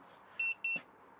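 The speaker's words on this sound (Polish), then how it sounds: "Alarm" Two short, high electronic alarm beeps sound in quick succession during a food-smoking session, clear against a quiet background.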